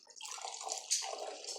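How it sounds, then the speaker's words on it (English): Homemade honey fruit mead is poured from a sterilized jar, a soft, close, continuous trickling and splashing lasting under two seconds at low volume. "So I'm gonna go ahead and pour a little bit out,"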